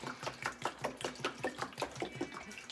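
Water is poured and sloshed over a cyanotype print in a wash bath, giving a quiet, rhythmic series of splashes and trickles close by.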